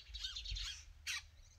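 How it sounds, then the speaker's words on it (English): Birds that nest in big nests in a tree overhead squawk in a couple of harsh calls, a longer one early and a short sharp one near the end, fairly close against outdoor background noise. "There's the birds that have those big nests in the tree I'm sitting under."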